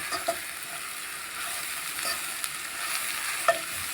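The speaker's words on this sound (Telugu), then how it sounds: "ఇప్పుడు మనం క్యాబేజ్ వేసుకోవాలండి. ఇట్లా మనము ఇది కూడా 1 నిమిషం పాటు ఇట్లా వేపుకోవాలి." Cabbage stir-frying in a hot pan, a steady close sizzle with light scraping and stirring strokes throughout, no voices.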